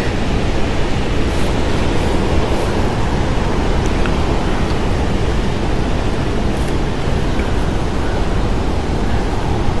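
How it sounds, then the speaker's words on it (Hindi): Steady, loud rushing water flowing downhill in Franklin Lakes, New Jersey, fills the whole clip, a dense continuous roar with no pauses. "ये नीचे पानी जा रहा है"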